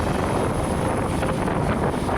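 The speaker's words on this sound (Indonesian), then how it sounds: "seluruh korban akan melihat helikopter yang ditumpangi Presiden mendarat" A helicopter carrying the President lands at the town square of Raha in Muna Regency, Southeast Sulawesi, producing a steady, loud broadband roar of rotor and engine throughout.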